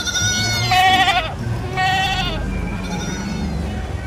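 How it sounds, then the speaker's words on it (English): Goat bleating in a children's alphabet phonics piece: a series of several wavering, nasal bleats, loud and close, set over a soft musical background. "G for goat. G for goat."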